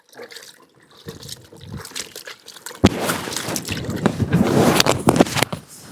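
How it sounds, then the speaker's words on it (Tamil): Water is poured over freshly picked noni fruit and sloshed around during rinsing, starting as faint trickles and splashes, then turning into a fuller, continuous churning of liquid close by. "தண்ணி ஊற்றி ஃபுல்லாக அலாசிடுறோம்"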